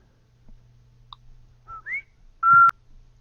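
A human voice imitates a creature's whistle with a few short, rising whistled chirps, ending in one louder, longer whistle, alone against a faint background hum.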